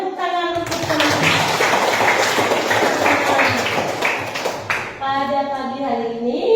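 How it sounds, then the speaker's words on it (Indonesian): Classmates in a school classroom clap their hands together in a dense, steady burst lasting several seconds, with children's voices heard just before and after it. "Berikan tepuk tangan untuk teman-teman."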